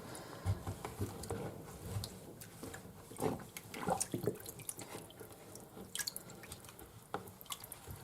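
Cold water runs and drips into a sink where a finished flower basket cross stitch soaks, with irregular splashes and patters throughout, close and fairly loud.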